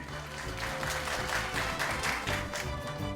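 An audience claps and cheers at a pig performance show, with continuous lively applause under loud background music, steady throughout.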